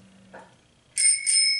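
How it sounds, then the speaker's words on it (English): A small bell, like a bicycle bell, rings twice in quick succession with bright, clear metallic tones after a brief faint murmur, close and fairly loud. "ring the bell."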